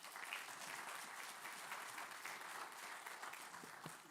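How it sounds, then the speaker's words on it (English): A church congregation at DelVal Church gives a steady round of applause for the pastors during a houses of worship security event, the clapping continuous and fairly distant throughout. "And let's give them a round of applause, please."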